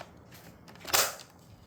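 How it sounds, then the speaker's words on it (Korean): Toy sniper rifle in the style of a Nerf gun having its magazine clicked into place, a single short plastic snap heard faintly amid quiet room noise. "그냥 너프건 소리 같은 너프건 탄통 장전할 때 그 소리"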